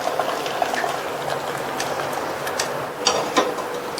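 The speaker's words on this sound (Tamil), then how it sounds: "இப்ப இதில் உள்ள தண்ணியை வடிச்சிடலாம்." Water drains off boiled raw banana in a kitchen. A continuous hissing, bubbling pour is heard up close, with a few sharper splashes and clinks near the end.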